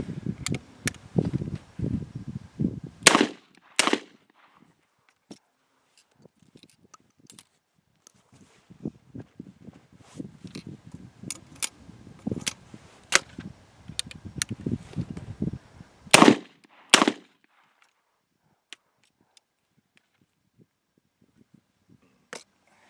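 A Cimarron double-barrel shotgun loaded with Federal number 6 shells fires two pairs of sharp, loud blasts outdoors, each pair in quick succession. Quieter handling and rustling noises fill the gaps between the pairs.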